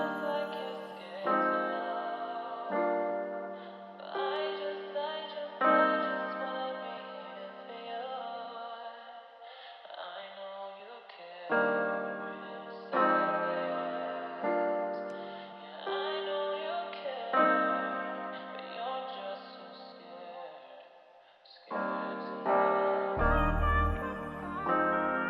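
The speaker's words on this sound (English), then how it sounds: "All I did was took this keyscape piano, I pitched up an octave, and then I bounced this to audio." R&B sample built from a Keyscape piano pitched up an octave, playing sustained chords and melodic phrases in repeating sections, clean and alone with a brief low thump near the end.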